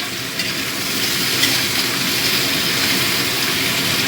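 Bitter gourd, potato and pumpkin frying in a pan, a steady, dense sizzle that holds even and close throughout with no voices.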